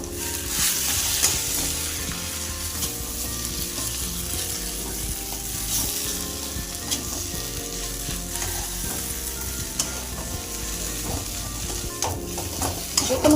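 Fish head and potato curry frying in oil with chilli powder, stirred steadily, producing a continuous loud sizzle with scraping and clinking from the spoon throughout, without any talk.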